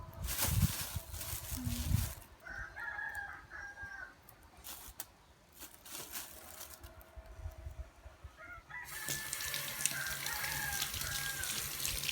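Water runs from a tap for washing before a stir-fry is cooked, coming in bursts of splashing and gushing that start and stop between quieter gaps, while roosters and hens crow and cluck in the background.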